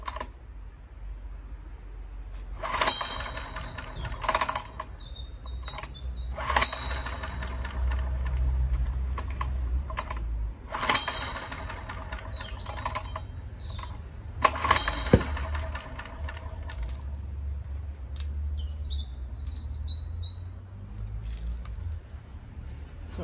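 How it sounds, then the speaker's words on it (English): A Honda EX1000 portable generator engine runs roughly with its choke off, throwing several sharp, loud backfire pops at irregular intervals over a low, steady engine rumble. "So now it just sounds like it's backfiring."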